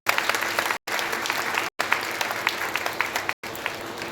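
An audience at a college faculty development session on gender equality in Chhattisgarh, India, claps for a woman professor, steady mid-level applause broken by several brief silent gaps.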